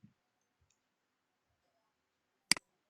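A single sharp computer mouse click, quiet and isolated, sounds late in an otherwise near-silent stretch while a teacher fills in a madrasah digital report card application.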